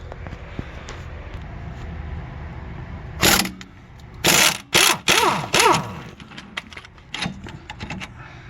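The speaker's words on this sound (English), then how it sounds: "It's 15 millimeters, and I'm going to be using air tools." A pneumatic air tool on a 2010 Ford Fusion 2.5L removes a 15 mm strut bolt, giving several loud, short bursts of rattling impact around the middle of the clip over a quieter mechanical background.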